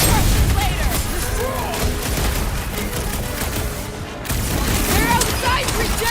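Bursts of blaster gunfire and booming explosions crackle through a combat scene in the Guardians of the Galaxy video game, dense and loud with a short lull before the fire resumes.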